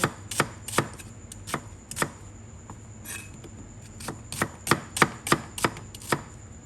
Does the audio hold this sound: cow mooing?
no